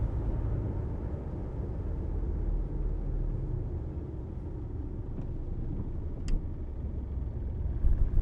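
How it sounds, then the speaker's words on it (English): A Ford Ranger pickup engine idles steadily in fifth gear with the clutch out while the brake holds it, a continuous low rumble without pauses; a faint brief tick rises near the end. "the truck just keeps creeping forward, but it has not stalled yet"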